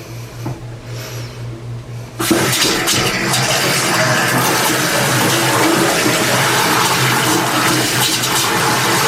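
Hot water gushes steadily from a vanity tap after a quieter start, a loud continuous rush that fills the rest of the clip.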